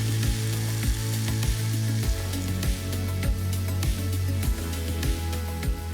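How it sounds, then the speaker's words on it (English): Onions and a teaspoon of whole fennel seeds fry in oil with a steady, close sizzle, broken by regular knocks and scrapes of a utensil stirring the pan, no talking. "a teaspoon of whole fennel seeds into the oil, and that'll toast along with the onions"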